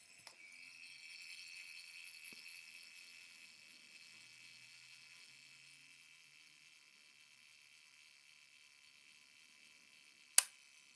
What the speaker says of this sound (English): That little trip sound at the end was the shutter sound